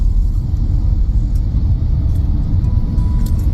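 A car rolls through light morning commuter traffic in Zirakpur near Panchkula, its engine and tyres making a steady, loud low rumble with faint passing sounds and no talk.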